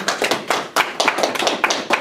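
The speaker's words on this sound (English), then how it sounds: "A round of applause for Mindy." Scattered hand claps from a small audience greet presenter Mindy at the close of a final presentation, a few sharp, uneven claps rising and falling for about two seconds.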